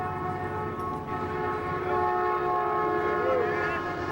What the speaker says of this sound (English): You hear the train go by in the background.